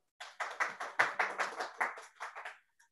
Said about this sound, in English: Y'all can clap now.